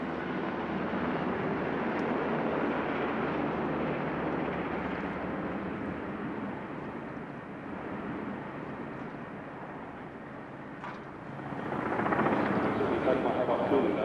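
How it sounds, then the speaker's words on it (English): An Army Aerospatiale Ecureuil (Squirrel) helicopter at an airshow: steady broadband rotor and engine roar fills the scene, continuous and fairly loud, swelling louder near the end as it passes closer. "From the Army, the Aerospatiale Écurie, or squirrel helicopter."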